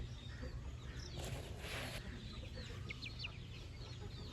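Young Onagadori chickens, about six weeks old, cluck softly with faint chirps over a low steady background hum, distant and quiet with no talking.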